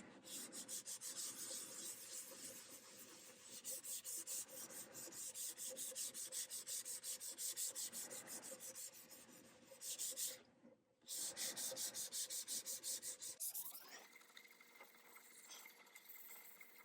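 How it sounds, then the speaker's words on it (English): Sandpaper worked back and forth along an acoustic guitar neck to de-gloss it, a close, steady rhythmic scratching that briefly pauses and then shifts to softer rubbing near the end. "I'm comfortable starting with this grit of paper, and I'll go ahead and actually treat the whole neck"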